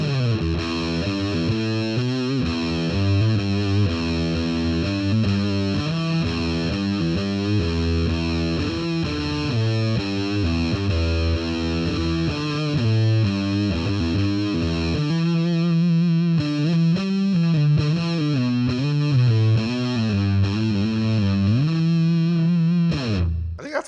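Electric guitar played through a fuzz pedal, giving a thick, saturated distorted tone with sustained chords and melodic lines that ring loud and continuous throughout, with no talking.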